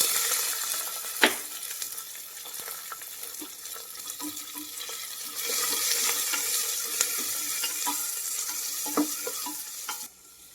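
Curry leaves and small shallots frying in hot oil for a South Indian pepper chicken curry: a continuous loud crackling sizzle with spoon scrapes and clicks scattered throughout, growing denser midway, then cutting off abruptly at the end.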